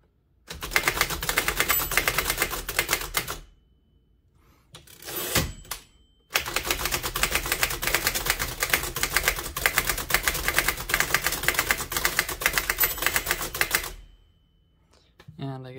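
An Empire No. 2 thrust action typewriter, built 1914–1922, clatters in quick, steady bursts of keystrokes. A short pause with a few isolated clicks separates two long runs, and the typing ends in near silence.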